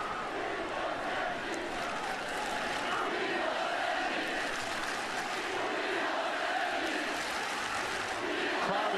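Dense, steady roar of a football stadium crowd at a 2014 college game between North Carolina and East Carolina, cheering loudly throughout without a break, with faint voices mixed into the wash.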